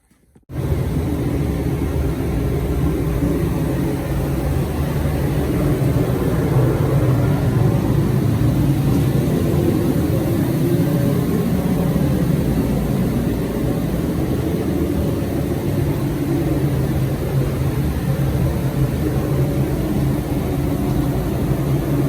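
Big blowers running in a car paint shop while a 1985 box Impala gets a color change, making a steady, loud broadband whoosh and hum that starts abruptly and holds unchanged throughout.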